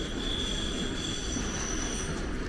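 A cargo train passes near a waterfall at Cascata di Santa Petronilla, a continuous loud rumble of wheels on rail with a faint high metallic whine over the dense low roar.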